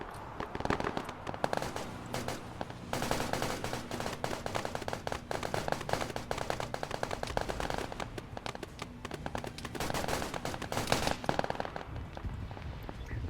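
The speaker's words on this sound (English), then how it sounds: "So grenades going off." Grenades burst amid dense, continuous gunfire in the military shooter Arma 3 during an aircraft carrier raid: a steady crackling barrage of shots and blasts, loud and unbroken for the whole stretch, with no talk.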